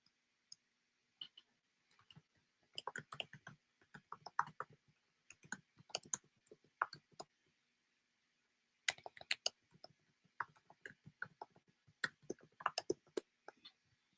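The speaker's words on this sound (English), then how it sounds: "Hey, you hear me typing?" Sparse, crisp keyboard clicks in irregular runs and pauses, someone typing close by in an otherwise quiet room.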